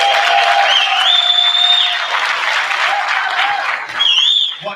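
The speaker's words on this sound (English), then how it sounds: "so get a big round of applause for them" Audience applause at a school board business meeting in a middle school, a dense, steady patter of clapping for nervous presenters that holds strong for nearly five seconds, with a faint tone and some talk mixed beneath.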